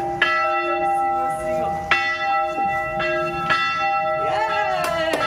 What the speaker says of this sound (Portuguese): Primeiro eu vou tocar o sino na mão para você.